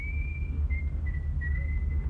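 In a vintage radio comedy scene, a man whistles a thin, steady high note in short held stretches over a low, constant hum of recording noise.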